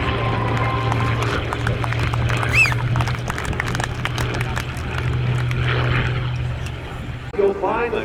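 A P-51 Mustang propeller fighter on final approach at an airshow in Geneseo, New York, giving a steady low engine drone under crowd noise and a public-address announcer's voice.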